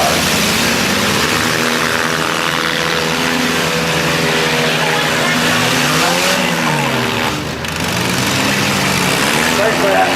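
Demolition derby cars with oversized front tires and small rear tires rev and drive in a loud, sustained engine roar, pitch rising and falling as they maneuver around the arena.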